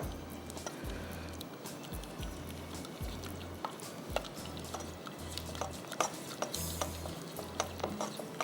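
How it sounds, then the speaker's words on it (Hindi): A whisk beats egg into a qorma achari mixture in a bowl with quick, repetitive scraping strokes, soft and close. A low, steady rhythmic hum pulses under the stirring. "अच्छी तरह मिक्स करना है ताकि अंडा अच्छी तरह इसमें इनकॉर्पोरेट हो जाए"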